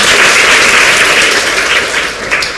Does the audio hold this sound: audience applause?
yes